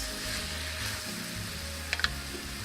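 Garlic, baby red and white onions and mushrooms sizzle steadily in a pan for beef stroganoff, a soft continuous frying hiss with a couple of brief clinks from stirring near the end.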